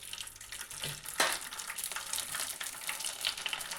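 Sago and potato chakri with gathiya frying in hot oil, a steady crackling sizzle with bursts of bubbling and occasional stirring, close and continuous.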